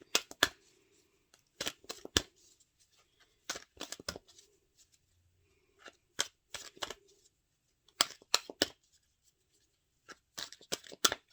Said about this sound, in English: let me get your cards laid down here